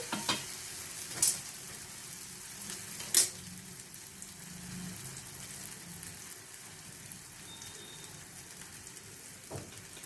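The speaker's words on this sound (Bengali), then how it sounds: "একটা ভাজা হয়ে গেছে, আর একটা ভেজে দিলাম" A second bread pakora sizzles in hot oil, a continuous close crackle and hiss, broken by a few sharp clinks near the start and middle, with no voices.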